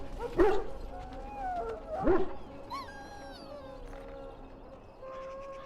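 A dog in the Dragon Age: Origins fantasy game gives two sharp barks followed by whimpering, whining tones, heard close over a low ambient game background.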